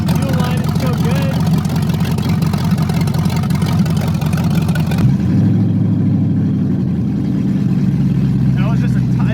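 An LS V8 swapped into a Chevy S10 runs loud and close, a rough rumbling idle that jumps with a quick throttle blip midway before settling back, while someone talks over it.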